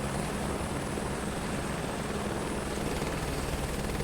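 Helicopter on a scenic flight over mountain valleys and canyons of the Lahaul and Spiti loop, a steady loud rotor and engine roar with a pulsing low thump, continuous and close, no talk.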